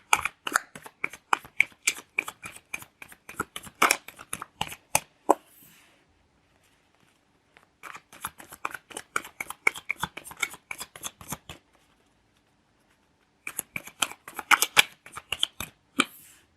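Tarot cards shuffled by hand in quick riffling bursts, close and crisp, in three runs separated by short pauses.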